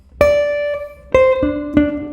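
An electric guitar plays a tune slowly: three clean, sustained single notes plucked about a second apart, each ringing out clearly with no talking.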